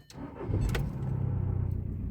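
A 2004 Volkswagen Caddy with a 2.0 diesel engine restarting: a brief cranking catch, then a steady, close, low idle rumble settling in, with no one talking.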